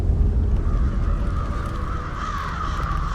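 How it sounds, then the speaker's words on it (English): Crows caw repeatedly in the video game Diablo 4, several harsh calls layered over a dense, steady ambient backdrop, moderately loud and continuous with no speech. "God damn these crows."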